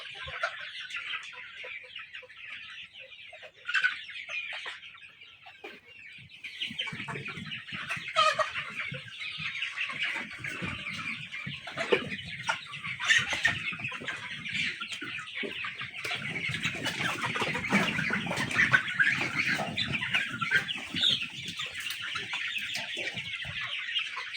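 A flock of about 500 Sonali chickens cluck and chatter continuously on a farm, a dense layered murmur of calls with occasional louder squawks.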